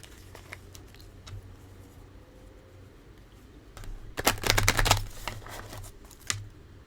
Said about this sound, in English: I'm gonna do one more shuffle.